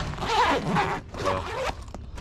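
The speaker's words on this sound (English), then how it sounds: "So I've got this zipper here, can hold stuff." A zipper on a KastKing fishing tackle bag pulled in two quick, close rasping strokes, each about three quarters of a second long, with a brief pause between them.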